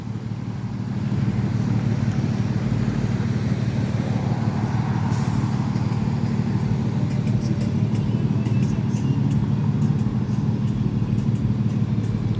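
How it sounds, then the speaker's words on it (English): Congested traffic at Jackson Square sends up a steady low roar of idling and creeping car engines, close and continuous, with faint higher clatter scattered on top. "these cars just barely made the turn, and they can't make it any further"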